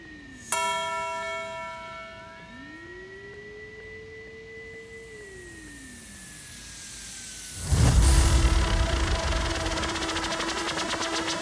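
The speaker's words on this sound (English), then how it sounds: "The typical trap church bell." A trap-style church bell sample rings in an electronic track: one sharp bell strike with sustained tones and gliding synth sweeps, then a loud full beat drops in.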